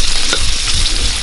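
Bacon fries in hot oil in a pan, a loud, close, steady sizzle and crackle that fills the whole clip.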